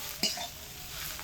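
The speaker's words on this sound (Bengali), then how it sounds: "2 থেকে 3 মিনিট সময় ধরে কুল তেলের মধ্যে দিয়ে মশলা দিয়ে কষানো হয়ে গেছে।" Dried jujubes stir-fried in oil with spices for a pickle, a short scrape of a utensil against the pan near the start, then a faint, steady sizzle-like hiss underneath with no voices.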